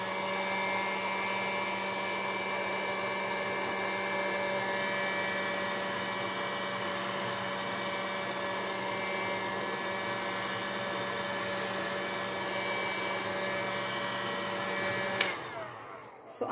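A hair dryer blows steadily and close up, drying primer on an MDF panel, a continuous whirring hum that runs unbroken for about fifteen seconds before it is switched off near the end.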